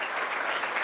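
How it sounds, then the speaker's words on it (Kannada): Students in an institute audience clapping together after a speech, a brief burst of dense, even applause close and loud. "ಜೋರಾದಂತ ಒಂದು ಚಪ್ಪಾಳೆ ಹೊಟ್ಟಿದೆ ಎಲ್ಲರೂ"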